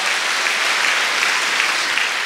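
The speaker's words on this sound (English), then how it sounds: "give Jesus a clap offering" A church congregation claps in sustained, dense applause that fills the room evenly from start to finish.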